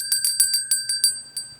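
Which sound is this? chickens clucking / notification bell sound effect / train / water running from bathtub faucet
notification bell sound effect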